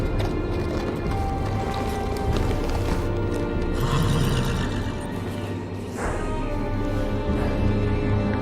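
Horse neighing and hooves clip-clopping in the Telltale Game of Thrones video game, with a steady loud bed of hoofbeats and a whinny rising partway through.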